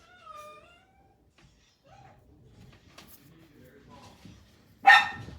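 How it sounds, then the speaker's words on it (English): A pet dog barks in the background of an indoor room: one loud, sharp bark near the end, after softer earlier yelps and some faint rustling. "Don't mind my dog barking in the back."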